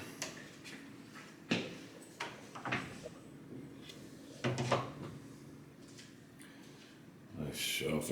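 Hotel closet doors in a Cancun junior suite are opened, giving several brief knocks and sliding thumps spread across the room, with a person talking between and over them.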